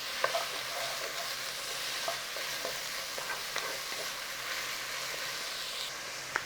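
Chicken pieces fry slowly in a pan for palak chicken, giving a steady, close sizzle with faint occasional clicks and pops, heard alone with no talking.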